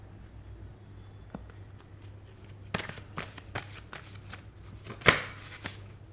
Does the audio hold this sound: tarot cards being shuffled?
yes